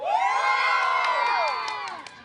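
At a street giveaway of cash, phones and rice, a crowd shouts together on cue in a loud, sustained burst of cheering and high voices that trails off after about two seconds.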